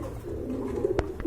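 Fancy pigeons at a pigeon sale coo in soft, low rolling notes close by, with a brief thump near the end.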